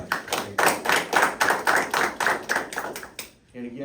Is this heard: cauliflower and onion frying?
no